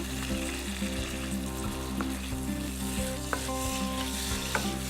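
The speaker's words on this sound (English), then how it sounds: "I'm frying the pesto in the pan and getting a bit of heat into there." Pesto with hazelnuts, parmesan and a little raw garlic frying in a pan, a steady close sizzle with occasional spoon stirs and scrapes over a low constant hum.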